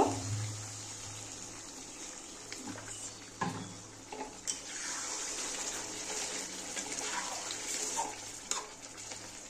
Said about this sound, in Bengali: এবার না আমি জল দিয়ে দেব, অল্পই দেব।